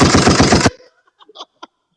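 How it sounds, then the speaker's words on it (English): A short, loud burst of rapid gunfire, fired as a fast run of shots, cuts off abruptly and is followed by a few faint, scattered clicks and rustles. "Gunshots."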